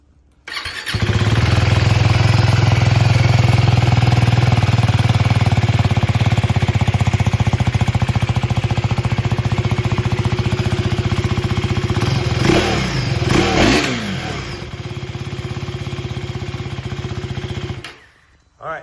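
A 2024 Husqvarna Svartpilen 401 motorcycle fires up from cold, then settles into a loud, steady, close idle with a throbbing exhaust note for about sixteen seconds before cutting off abruptly.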